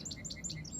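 Sparrows chirp in a yard, a quick run of short, bright tweets repeating in an even rhythm, fairly close and alone without talk.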